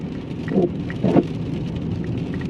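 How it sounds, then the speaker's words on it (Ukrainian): Steady rain drumming outside a car, a dense continuous patter with a couple of brief heavier bursts, and no voices. "А дощ не вщухає"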